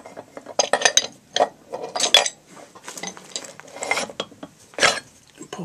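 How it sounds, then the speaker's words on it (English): Metal clinks and scrapes as a set screw is backed out and a drilled metal arm is pulled free, a series of sharp close-up taps and rattles in irregular bursts with no talking. "I can take this set screw out, and then I pull this arm out"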